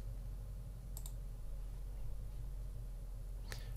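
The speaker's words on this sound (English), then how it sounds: "I'm gonna click on OK" A computer mouse gives a couple of quick, faint clicks near the start and another short click near the end, set over a steady low electrical hum in a quiet room.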